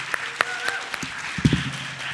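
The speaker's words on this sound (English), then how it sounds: "Can we give them another round of applause for their talks on mental health?" An audience at a school mental health and wellness fair applauds students for their talks, with scattered, fairly soft claps heard from a distance in a room.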